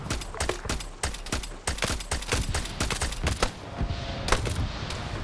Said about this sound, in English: Suppressed AA-12, goddamn.